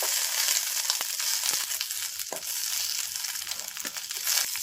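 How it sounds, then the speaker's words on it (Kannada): Indian borage leaves fry in ghee in a pan, giving a soft, steady sizzling hiss with faint crackles, fairly quiet and with no voices. "ಚೆನ್ನಾಗಿ ಹುರಿಯಿರಿ."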